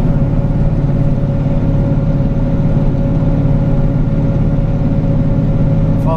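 Steady car engine drone from inside a vehicle cruising in fifth gear, a constant loud low hum with a faint tonal whine throughout and no talk.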